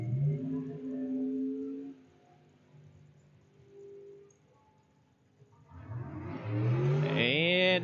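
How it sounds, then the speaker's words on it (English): A 2000 Spitzer dragster launches down the drag strip, its engine bursting in loudly after a quieter stretch of idling and crowd murmur, then roaring and rising in pitch close by. "2000 Spitzer Dragster here in the Napa lane."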